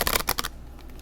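A quick burst of crisp riffling as a deck of tarot cards, slightly longer than standard, is shuffled, a few rapid flutters lasting about half a second, then fading.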